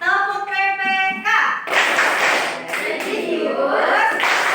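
Children in a classroom clap a rhythmic group clapping chant, chanting together, with bursts of crisp clapping under loud voices.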